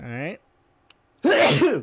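A single loud, close sneeze breaks out during a tabletop Dungeons & Dragons game session, just after a brief spoken word and a moment of quiet.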